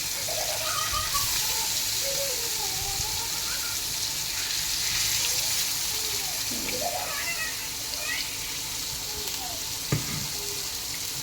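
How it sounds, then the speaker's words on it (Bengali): Fish frying in a pan, a continuous loud sizzle and crackle under intermittent talk, with brief clinks and scrapes. "তাড়াতাড়ি 4-5টা মাছ ভাজি রাইতে খাওয়ার জন্য"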